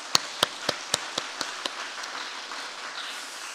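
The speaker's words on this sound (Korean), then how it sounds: "박수 한번 보낼까요?" A short run of sharp, evenly spaced claps from a church congregation that grow softer, fading into a faint hiss.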